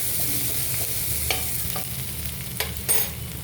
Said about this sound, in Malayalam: അതുവരെ ഇത് സോട്ട് ചെയ്തുകൊണ്ടിരിക്കുക